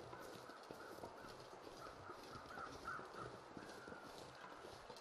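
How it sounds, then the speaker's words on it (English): Crows caw repeatedly in a snowy wilderness in The Long Dark video game, faint and somewhat distant over a soft wind-like background hiss. "there gotta be crows up in here"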